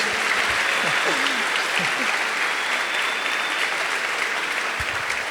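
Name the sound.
church congregation applauding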